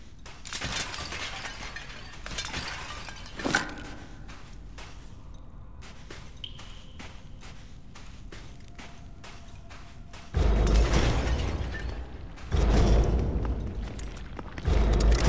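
Dynamite explosions in the first-person shooter Immortal Redneck, several heavy booming blasts with shattering debris, loud and close, between stretches of game noise and brief crackles.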